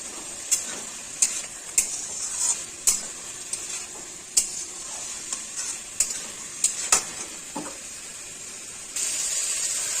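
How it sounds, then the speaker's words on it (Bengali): Pumpkin and malabar spinach stir-fried in a pan with vegetable masala, with repeated sharp spatula scrapes and knocks over a steady sizzle, close and fairly loud, no talking. "মিষ্টি কুমড়া আর পুঁই শাক ভালো করে কষে নিব।"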